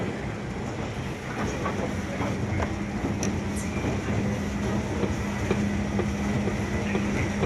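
Escalator in a busy shopping market full of phone shops, giving a steady loud rumble with rhythmic clacking, like a train crossing a bridge, continuous and close with no talk.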